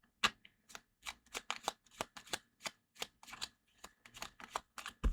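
Tarot cards being shuffled and drawn, a quick series of close, crisp riffling flicks and slaps in an irregular rhythm with no talking.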